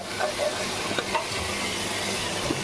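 Cauliflower pakoras fry in a pan of oil over low gas, a steady close crackling sizzle with occasional small pops and stirring scrapes, and no voices.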